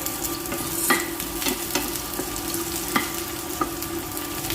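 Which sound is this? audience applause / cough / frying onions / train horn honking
frying onions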